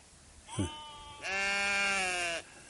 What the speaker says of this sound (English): That would be the local sheep.